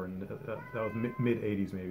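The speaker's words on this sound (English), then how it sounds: "that's my cat meowing" A house cat meows indoors, faint and partly masked while someone talks over it nearby.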